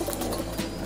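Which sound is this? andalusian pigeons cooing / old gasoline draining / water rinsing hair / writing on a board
andalusian pigeons cooing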